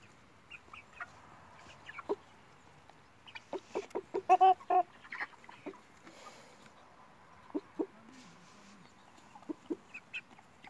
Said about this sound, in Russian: Вот такие уже выросли цыплята.